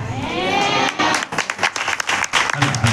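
A church congregation claps together in a dense, loud burst of applause, with a preacher's voice rising over and between the claps.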